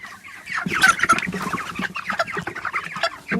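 Chickens cluck and squawk close by in a busy, continuous jumble of overlapping calls, loud throughout with no speech.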